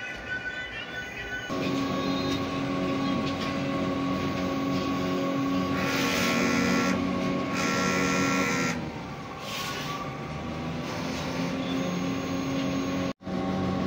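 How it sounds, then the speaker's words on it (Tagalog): Continuous mechanical whirring of a printer running a nozzle check, with shifting motor tones and occasional higher buzzing passes as the carriage moves. "Nozzle check."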